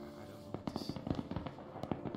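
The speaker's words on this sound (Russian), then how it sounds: "Марта, ты мне сделала фейерверк?" Fireworks in the video game Stray Souls, a rapid run of crackling pops and bangs bursting one after another over a steady background hum.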